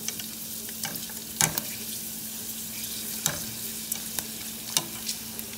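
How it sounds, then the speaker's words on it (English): Mexican duro wagon wheel chips deep fry in hot oil, a close continuous bubbling sizzle broken by a few sharp clicks and splashes. "Let them deep fry on the other side for just a little bit, and they're done."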